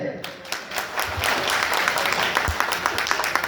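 Audience applause at a company launch celebration in a hall, a burst of sharp claps rising after a brief quiet start and continuing steadily, with voices mixed in among the clapping.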